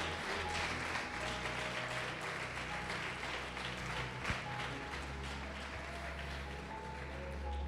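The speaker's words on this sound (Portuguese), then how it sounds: "Pode aplaudir, glorificar a Deus por isso" Steady applause from a church congregation fills the space, sustained and even, heard from a distance in a large reverberant room.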